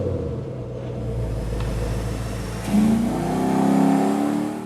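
A tuned Ford 302 V8 runs on a dyno, holding a deep steady rumble before revving up sharply partway through and climbing in pitch, loud and close with no talk.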